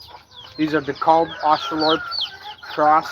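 DeKalb Oshthorpe cross chickens cluck in a handful of loud, close, stacked bursts, with a brief spoken word among them.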